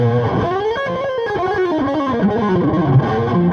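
A PRS Modern Eagle V electric guitar on its humbucker pickup, distorted with a thick, meaty overdriven tone, plays a sustained, bending melodic phrase, loud and close.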